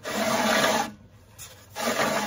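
A tool scrapes and smooths the base of an agateware pottery mug on a wheel, giving two close, rasping bursts of rubbing split by a short quiet pause.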